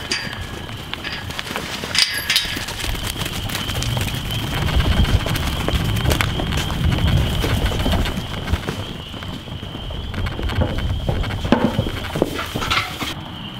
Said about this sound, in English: these goats are gonna come flying out of here and running down the hill